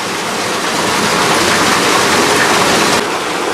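Water from a sluice rushes and pours into an overflow well, a loud, steady broadband roar that stays constant throughout, with a slight drop in level near the end.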